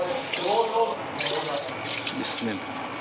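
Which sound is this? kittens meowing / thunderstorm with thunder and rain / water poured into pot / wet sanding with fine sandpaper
water poured into pot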